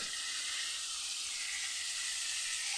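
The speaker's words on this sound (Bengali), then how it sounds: "বেগুন কুমড়ো আর শিম গাজর বরবটি সব দিয়ে সর্ষে গুঁড়ো দিয়ে একটা মাখা মাখা তরকারি রান্না বসিয়েছি" A mixed vegetable curry of eggplant, pumpkin, broad beans, carrot and yardlong beans with mustard powder cooks in a pan, giving a steady, soft, even sizzle and hiss throughout with no pauses.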